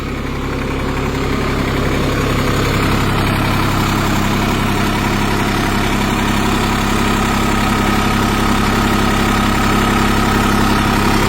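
A tractor engine idling and running steadily while crawling along in creep gear, a loud, continuous low mechanical drone with vibration, close and unbroken, with no voices.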